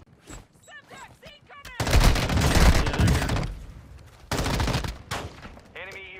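Dragon's breath shotgun blasts in a video game come as two loud, heavy bursts of gunfire, each with a crackling tail, between stretches of players talking over chat.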